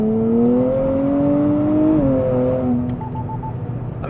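A 2023 Nissan Z pulls hard in third gear with traction control off. Its engine drones loud and close, the pitch climbing steadily, then dropping sharply near the middle before carrying on, with no talking.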